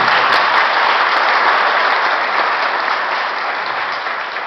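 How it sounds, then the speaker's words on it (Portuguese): A congregation claps together at a Catholic mass during a São Paulo feast day, a loud, dense burst of applause that fades slightly toward the end. "Uma salva de palmas, irmão."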